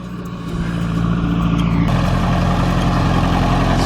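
A farm tractor engine runs close by, a loud steady drone that rises in the first second and then holds evenly at a constant pitch with no talk over it.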